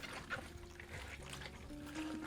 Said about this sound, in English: The water drains out